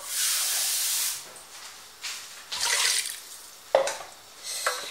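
Water splashed into a hot cooking pot while preparing a tajine of green beans and potatoes, giving bursts of broad steamy hiss that swell and fade several times, with a sharp spitting crackle near the end.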